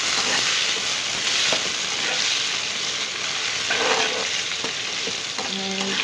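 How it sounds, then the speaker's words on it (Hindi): Onions and potatoes frying together in a pan for an aloo baingan curry; a dense, loud sizzle holds throughout with faint stirring scrapes and a brief clink near the end. "इसको फ्राई करेंगे। इसी के साथ मैं आलू भी डाल देती हूँ, वो भी हमारे आलू फ्राई हो जाएं।"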